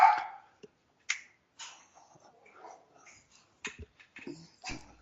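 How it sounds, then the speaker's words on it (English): A hyper dog whimpers and snorts in short, uneven bursts between quiet gaps, fairly close and moderately loud, with a sharp click at the start. "Dog getting a little hyper."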